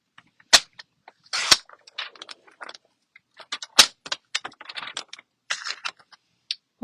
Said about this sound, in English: Let me grab my cutter and cut it down just a little bit at the top.